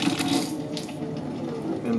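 Water runs steadily from a MOEN Brecklyn kitchen faucet, a close, continuous splashing rush into the sink with slight fluctuations in the flow.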